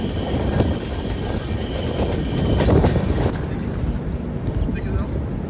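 New Delhi Howrah Duronto Express train running, heard from onboard as a loud, steady rumble and rattle of wheels on track with occasional squeals, continuous throughout.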